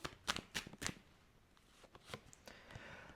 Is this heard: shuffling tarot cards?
yes